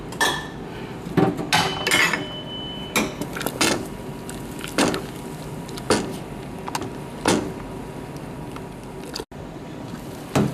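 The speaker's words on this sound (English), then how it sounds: "Make sure you stir that up very good." Crawfish boil seasoning being stirred in a large pot, with repeated clanks and scrapes of a utensil against the metal at irregular intervals over a steady background hum, fairly close and loud.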